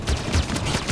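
Rapid gunfire in the video game Halo 5: Guardians, a close, loud burst of repeated shots pounding in quick succession through a brief moment of combat.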